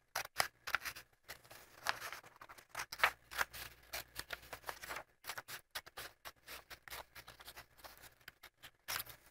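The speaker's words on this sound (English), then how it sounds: "I'm going to take my scissors and I'm going to cut." Scissors cut across a folded piece of paper for a Frankenstein puppet, a quick close series of crisp snips and paper rustles in irregular bursts, fairly quiet with short silences between.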